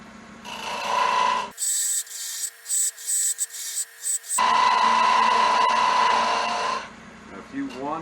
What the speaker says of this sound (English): I'm holding my skew so I'm not going straight in, I'm kind of going in at an angle to follow the shape of the tree.